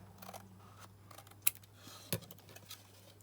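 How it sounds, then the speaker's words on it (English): Scissors snipping across the front paper flap of a craft pocket template: two sharp, close cuts, the second a little fainter, over a low steady hum and soft handling rustle. "I'm going to cut that across like that"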